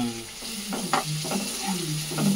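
Rice manchurian ingredients, leftover cooked rice mixture with tomato, fry and get stirred in a pan, giving a steady close sizzle broken by scraping stirs over about two seconds.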